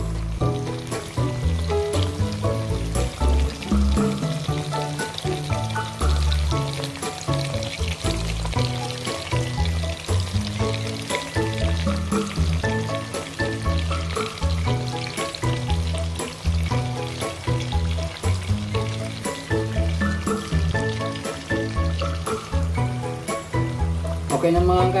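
Tilapia fries in hot oil until golden brown, a steady sizzle running underneath continuous music with a strong rhythmic beat that nearly covers it the whole time.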